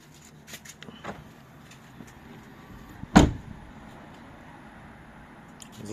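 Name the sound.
car door being opened and closed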